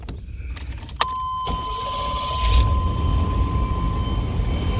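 A 1990 GMC K1500 pickup's engine idles with a steady, close rumble after a brief metallic click, the low drone swelling slightly partway through.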